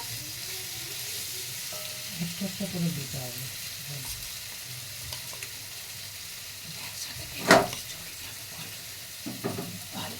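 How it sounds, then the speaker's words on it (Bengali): Chicken pieces frying in hot oil for chili chicken, a steady soft sizzle in the background with a few clinks and a sharper burst near the end, no talk. "এইভাবে আমি সব চিকেনগুলোকে দিয়ে ভেজে নেব।"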